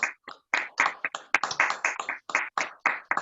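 Scattered hand claps from a few people on open microphones in an online Toastmasters meeting in Lima, arriving in uneven bursts with brief silent gaps between them.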